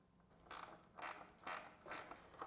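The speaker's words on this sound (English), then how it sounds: "Place a nut on the lock washer, then tighten." A ratchet wrench tightens a nut over a lock washer on the brake steering mount of a Soap Box Derby stock car, giving four evenly spaced bursts of close, crisp ratcheting clicks.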